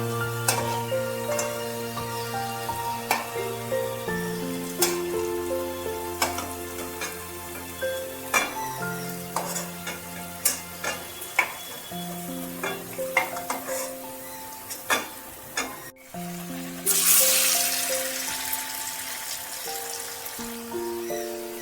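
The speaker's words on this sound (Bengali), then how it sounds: "একটু কড়া করে ভাজতে হবে, দেখতে হবে যেন পুড়ে না যায়" Cabbage kofta balls deep-fry in hot oil with a continuous bubbling sizzle, punctuated by frequent clinks of a utensil against the pan, all under steady background music.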